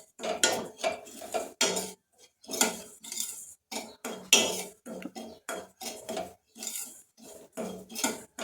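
A utensil stirs semolina roasting in a pan for jaggery kesari bath, making rhythmic scraping and clinking strokes against the metal in short repeated bursts, close up and without speech.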